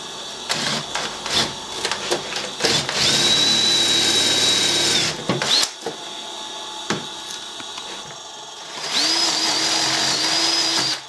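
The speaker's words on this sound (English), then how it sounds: "Right, that's a drill." A power drill whines loudly in two sustained bursts, separated by clanks and scraping tool noises.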